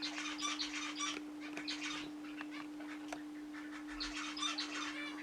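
Two birds in a shed flutter their wings in repeated short bursts of soft flapping, close by, over a steady electrical hum.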